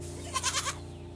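A young goat kid bleats once in a short, wavering cry, close and clear against a steady low background hum.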